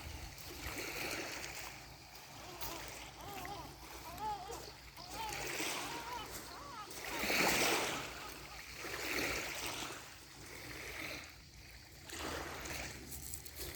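Sea water washing and splashing at the shore in Podgora, Croatia, in slow rising and falling surges, with a person talking over it.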